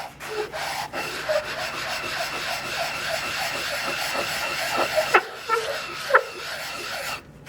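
Wood being hand-sanded with 150 grit sandpaper in a shop, a steady run of rhythmic rubbing strokes at close range, with a few sharper scrapes near the end and no talking.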